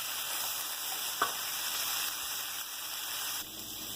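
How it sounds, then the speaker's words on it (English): Brussels sprouts and other vegetables fry in a pan, a steady close sizzle with faint scraping and clicks as they are stirred, continuous and moderately loud without speech. "We'll just drop those in and stir them in, and let that flavor start to get into some of the other good veggies there."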